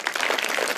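Brief burst of applause from schoolchildren at a junior high school in Dehradun, dense overlapping claps, close and fairly loud, lasting under a second.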